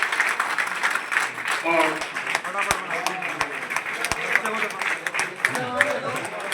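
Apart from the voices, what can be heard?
audience applause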